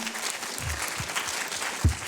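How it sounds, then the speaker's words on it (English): Applause rings out for the student and sponsor workshop hosts at the HackUMass VII hackathon closing ceremony, a steady crowd clapping across the whole stretch with a few heavier thumps near the end. "Let's give a quick like round of applause to all the students and sponsors who ran workshops during the event"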